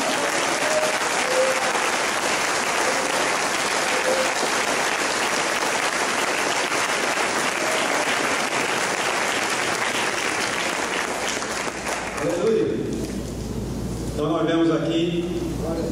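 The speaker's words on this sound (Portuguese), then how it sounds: "Você pode dar um aplauso ao Senhor por isso?" A church congregation gives sustained, dense applause at a pastors' ordination service, loud and steady for about twelve seconds before fading into quieter sound and a few voices.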